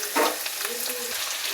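Chopped ginger hits hot oil in a wok with a sudden loud sizzle burst, then settles into a steady close-up crackle of frying.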